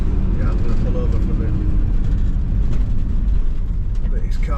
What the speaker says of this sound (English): Let these cars get by.